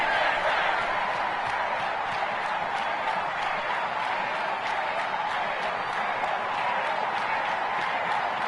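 A stadium crowd in the Madden 21 football video game cheers and applauds in a steady, continuous roar that stays even throughout.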